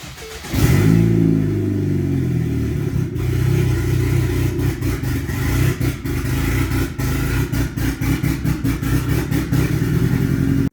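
A Ford Focus engine, its motor due for teardown, cranks and fires, then settles into a loud, steady idle with a slightly uneven, clattery pulse and small revs throughout.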